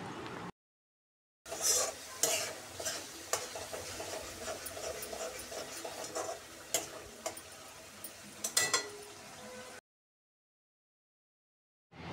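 Masala with turmeric paste is stirred in a pan, giving a low, steady sizzle with repeated ticking scrapes of the spoon for several seconds between short silences, no talk.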